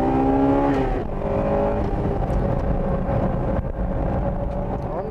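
A Honda Integra Type R engine roars loudly and steadily on a race track, its pitch shifting as the driver lifts and reapplies throttle into a corner, with wind noise throughout.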